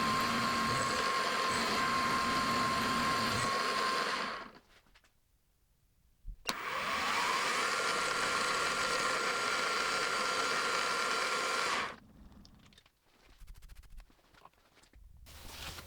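A machine cuts a slot in soft jaws for a lathe, making a steady, loud whirring drone that stops abruptly, resumes after a brief silence, then cuts off again, leaving faint intermittent noise.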